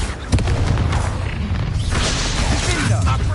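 A Confringo fire spell blast in Hogwarts Legacy combat, a sudden booming burst followed by rumbling crackle and debris, loud and close amid muffled battle noise and brief voices.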